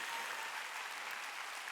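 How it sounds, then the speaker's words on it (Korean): Congregation applauding at a Korean church's Wednesday worship service, with a brief, even wash of many hands clapping, fairly soft and distant in the hall. "아 박수 좀 세게 쳐!"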